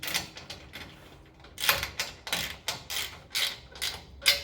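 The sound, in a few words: wrench tightening ladder rack bolts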